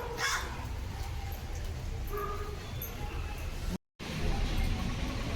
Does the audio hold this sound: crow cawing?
yes